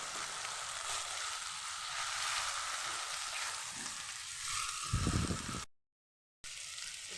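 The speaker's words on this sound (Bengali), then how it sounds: "চিলি ফ্লেক্স দিয়ে দেবো আর একটু নেড়ে দেবো" Chicken mince with chili flakes being stirred in a frying pan, a steady close sizzle with scraping strokes of the spoon, a louder burst of stirring near the end before a brief gap.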